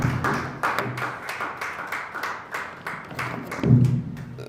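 An audience claps after a speech at a college technology centre launch, a sparse, moderately distant patter of hands with scattered sharper claps and a thump near the end.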